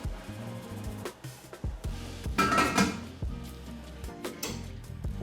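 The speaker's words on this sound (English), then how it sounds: "place the chicken into the steam rack." Clattering metal and clinking dishware as a chicken is set onto a steamer rack over boiling water, with a few knocks and a brief sizzle-like hiss in the middle.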